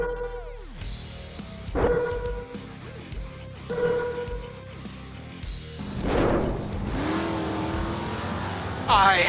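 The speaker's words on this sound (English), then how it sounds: "Isaac the Maniac, driving his Ford Mustang funny car dragster." Engine of a Ford Mustang funny car dragster in a racing video game, revving and accelerating in rising whines with shifting pitch, loud and close, mixed with faint game sounds.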